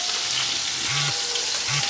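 Onion and garlic fry in hot oil for a sambal, a dense close sizzle with crackling and spitting running steadily throughout, a few low knocks of a utensil underneath.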